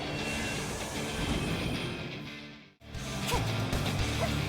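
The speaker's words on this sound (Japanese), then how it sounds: "この電車だね。" Train running in the Rushing Beat X video game, a steady roaring rumble with rhythmic clatter that briefly cuts out and then resumes at full loudness.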